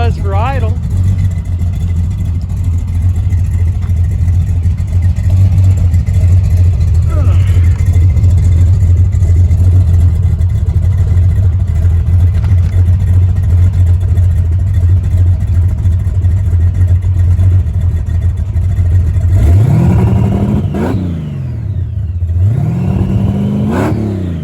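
A supercharged AMC Javelin engine idling after a cold start: a loud, steady low rumble that drones evenly for about twenty seconds, then wavers and shifts in tone near the end.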